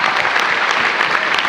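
A dense burst of audience clapping at a dance performance, loud and continuous through the brief moment with no voices over it.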